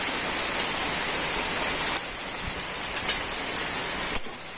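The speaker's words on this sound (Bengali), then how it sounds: "এখন ঘিয়ের সাথে সুজি আর ময়দাটা কিন্তু খুব ভালো করে ভেজে নেব" Semolina and two spoons of flour frying in hot ghee give a steady, dense, rain-like sizzle. A few faint clicks sound through it, and no one speaks.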